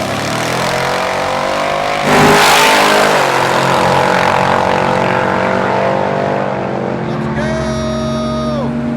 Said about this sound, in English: The mail truck coming back up for his first 10-second pass